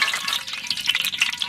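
Bay leaf and dried red chillies frying in hot mustard oil in a kadai, a steady close crackling sizzle with dense spitting pops throughout, no voices.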